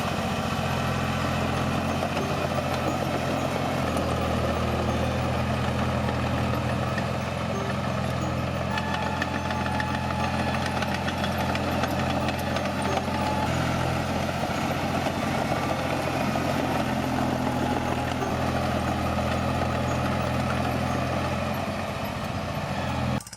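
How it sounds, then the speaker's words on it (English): A small-displacement 1920s diesel tractor engine runs steadily and continuously, a loud close low-pitched drone with a constant rumble and no pauses. "The crisp, clean exhaust note of these small displacement diesels delivers a sense of pure mechanical intimacy."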